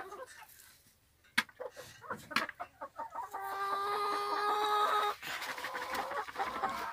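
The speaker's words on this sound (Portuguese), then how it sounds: "Elas estão brigando. Olha o tamanho desse frango." Chickens on a farm cluck and squabble as they fight, with sharp close calls and a longer, sustained crowing-like cry in the middle, all fairly loud and near.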